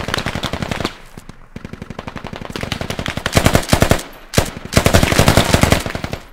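Loud machine gun fire during a close-range fight at a warehouse in the military shooter Squad, heard as several rapid bursts of varying length separated by short gaps.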